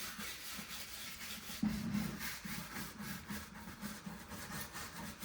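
A brush works furniture polish over an old, dirty Tiffany-style stained glass lamp, producing quiet rhythmic scrubbing strokes, soft and close, repeating steadily with a slightly firmer rub partway through and no talking.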